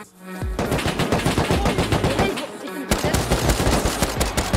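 Sustained automatic gunfire in the survival game Rust, with rapid loud bursts from a base hammering nearly without pause after a brief quiet start, then a short gap before another dense volley.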